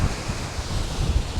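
Surf breaking on a quiet, empty North Devon beach near Hartland, a steady broadband wash with low rumbles and some wind noise across the microphone, no voices.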